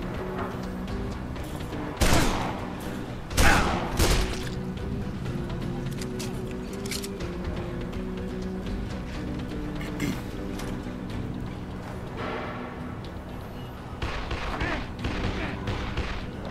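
A few sharp gunshots ring out in the Dead Island co-op game near a warehouse, standing out over a steady background rumble with long quiet gaps between the shots.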